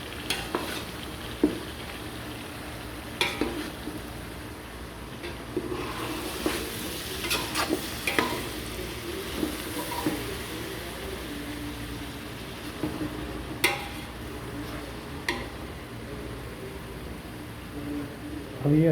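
Okra and onions fry in a pan as a spoon stirs them slowly. A steady close sizzle runs throughout, with soft scrapes and clinks from the stirring.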